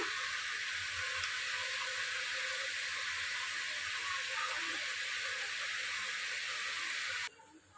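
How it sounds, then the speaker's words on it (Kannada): Ground onion-paste masala frying in a pan for Kodava-style egg and chicken sambar gives off a steady, even sizzling hiss that stops abruptly at the end. "ಇದು ಸ್ವಲ್ಪ ಫ್ರೈ ಆಗಬೇಕು"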